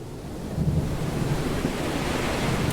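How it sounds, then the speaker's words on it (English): Ocean waves in the Sail the Seas video game surge in a loud, continuous roar with gusty wind noise, swelling slightly after the start and holding steady with no talk. "I was really struggling pushing against these waves to get through that tiny little gap."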